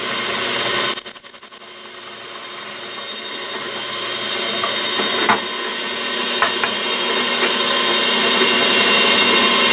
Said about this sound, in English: I will just gently drill from this side, and that'll take that burr off.